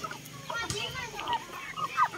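Backyard chickens cluck and murmur close by, soft irregular calls over a steady ambient hum, with a sharp louder squawk near the end.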